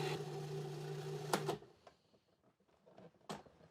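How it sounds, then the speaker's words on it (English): A food processor chopping vegetables for kimchi runs with a loud, steady mechanical whir, then stops abruptly partway through, leaving faint clatter and a sharp knock. "Okay, so food processor goes on."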